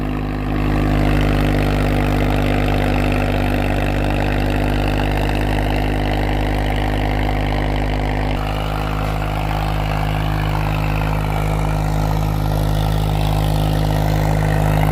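A new Swaraj tractor's engine runs steadily at close range with a deep, even idle throb and faint mechanical clatter, holding constant throughout with a slight shift partway, and no talking.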